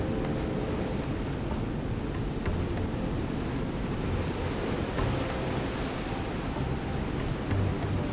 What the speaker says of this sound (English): The Pericnik Waterfall invites you through its lush landscape to get up close with the water, greets its goers with impressive drops